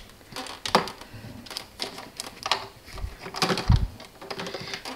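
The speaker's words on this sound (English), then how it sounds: "And the machine reads the barcode and knows which liquor to put inside." A cocktail pod machine reads a pod barcode and dispenses liquor, giving irregular mechanical clicks and clattering taps with a couple of low thumps, close and moderately loud, no talk.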